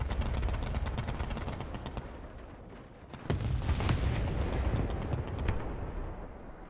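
Gunfire in a tank battle video game aimed at a Kugelblitz anti-aircraft tank, rapid repeated shots and booming impacts, a burst, a brief lull, then heavier firing, loud and close.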